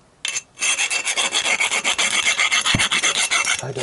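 Close, rapid back-and-forth rasping of a file taking the burr off a cut metal steering stem tube on an XJ900S Diversion motorcycle, with quick rhythmic strokes running continuously after a brief start.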